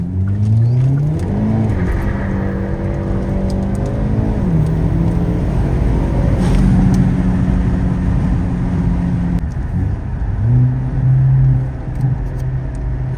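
A tuned Hyundai Elantra N with an EK1 lite and N75 stage 2 setup accelerates hard, its engine note climbing steadily and dropping at each gear shift across several pulls, loud and close with a constant rushing roar and no talk.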